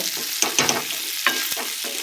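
Cauliflower frying in a pan, with a continuous sizzle and several sharp spatula scrapes and clinks as the pieces are stirred, close and fairly loud with no voices.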